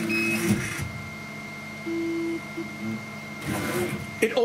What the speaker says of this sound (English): when you start the machine up, or when you press reset